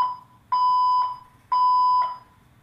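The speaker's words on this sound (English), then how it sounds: "fire alarm is going off." A fire alarm blares in repeated long, shrill electronic beeps, loud and close, with no talking.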